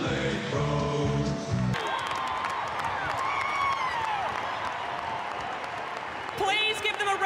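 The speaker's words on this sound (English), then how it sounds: "Please give them a round of applause," A large crowd at the 2019 AFL Women's Grand Final, Adelaide Crows vs Carlton, bursts into sustained applause and cheering right after music stops, with a loudspeaker voice talking over the clapping.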